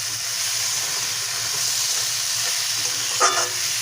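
Fried bori stirred into a vegetable curry in a pan makes a continuous low sizzle with a soft scrape of the spoon near the end, close and steady without talk.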